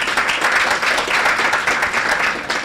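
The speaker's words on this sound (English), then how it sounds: "All the investees in this space give themselves a round of applause." Applause from an audience at the unveiling of the second cohort of Funguo investees, a dense steady burst of many hands clapping at once, loud and close throughout without speech.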